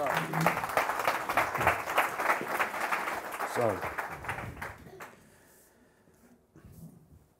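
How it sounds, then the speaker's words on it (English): An audience at a business talk applauds steadily for about five seconds, with voices talking through the clapping, then it stops and only quieter sounds remain. "Round of applause, Nigel."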